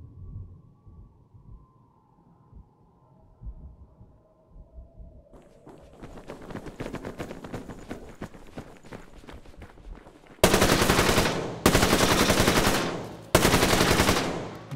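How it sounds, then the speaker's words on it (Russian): AK-12 assault rifle firing in Survarium: after quieter footsteps and scattered shots, three loud, sharp bursts of close automatic fire hit in quick succession near the end. "Сейчас посмотрим отдачу автомата сразу."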